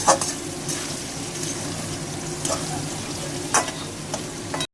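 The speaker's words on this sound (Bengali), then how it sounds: "কড়াইতে আলু দিয়ে দিয়েছি ভাজার জন্য, ভাজা হচ্ছে" Steady oil sizzle of turmeric-coloured potatoes frying, with a few sharp scraping stirs in a wok at irregular moments, close and moderately loud.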